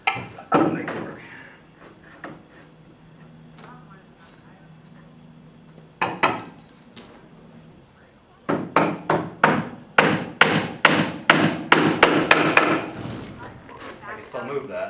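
Nails being driven into slate roofing during a slate roofing training demonstration: a few isolated hammer taps early on, then a rapid run of sharp, close, ringing strikes.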